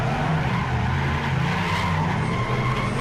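A drift car slides wide around a corner into a left-hand hairpin at Teesside, tires skidding and squealing in one loud, unbroken screech over a steady engine roar.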